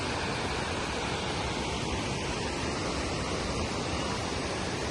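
Steady broadband rush of a small stream of flowing water near a waterfall in Kerala fills the whole clip, a constant close wash with no pauses and no voices.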